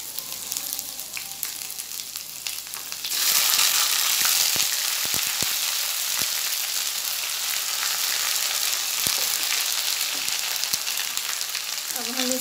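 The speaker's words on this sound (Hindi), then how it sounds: "अब हम इसको भूनेंगे, ब्राउन करेंगे।" Garlic-ginger and onion paste frying in a pan for a mixed vegetable sabzi: a quiet start, then a loud, steady sizzle that holds to the end, with no talking.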